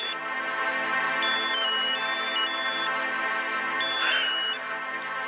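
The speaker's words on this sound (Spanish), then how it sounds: "El celular estaba sonando" A mobile phone ringtone plays steadily and loudly, a sustained electronic melody of shifting tones that continues without pause, with no talking over it.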